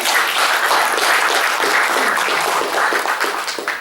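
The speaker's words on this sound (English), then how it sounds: "I would like to ask you guys to give applause for the both of the two speakers." Audience at a monthly discussion event applauding two speakers, a loud, dense, continuous round of clapping heard close for a few seconds.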